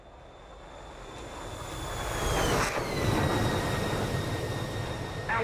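A Su-33 fighter jet's engine roars on takeoff in DCS, a broad steady rumble that swells louder mid-clip, with thin high whining tones gliding downward above it; no talk.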